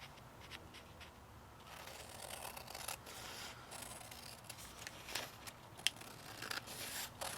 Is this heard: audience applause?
no